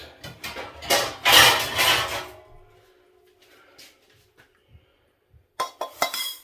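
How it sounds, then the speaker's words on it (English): A metal saucepan and its lid clatter and clink in a small caravan kitchen, a dense burst of knocks in the first half, then a quiet gap and a few more close clanks at the end. "we'll get a saucepan. Now you will need a lid for this."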